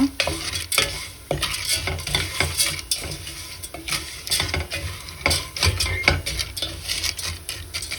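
Noodles being stirred and toasted in a pan for a noodle salad, a close, continuous dry sizzle broken by repeated scraping and clinking strokes of a utensil against the pan, with no voices.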